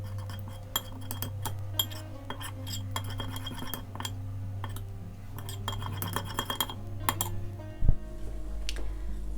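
Pasta salad with courgettes and lemon juice is stirred in a bowl, with repeated light clinks and scrapes of a utensil against the dish over a low steady hum, close and fairly quiet.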